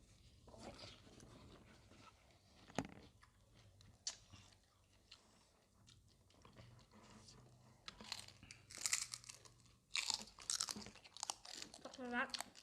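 Crispy pork rinds are chewed up close, loud crunching bites coming in irregular bursts with softer chewing between them and some speech.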